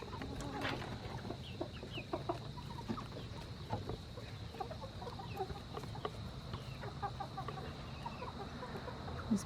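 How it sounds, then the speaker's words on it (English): Eighteen-week-old backyard chickens cluck and chatter continuously at moderate distance, scattered soft calls overlapping with faint outdoor background noise. "the chickens are 18 weeks old."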